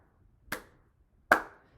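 Two sharp hand claps, evenly spaced under a second apart, close and dry with a short decay, marking a quarter-note rhythm.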